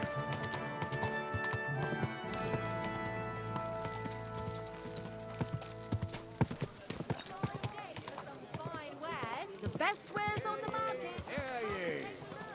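Horse hooves clip-clop at a steady walk along the streets of Kuttenberg in Kingdom Come: Deliverance 2, with music and bustling townsfolk chatter around them and voices talking over the rhythm.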